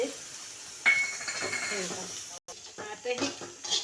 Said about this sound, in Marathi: त्याच्यात मी आता तीळ घालते चमचाभर. ते भाजून घेऊया.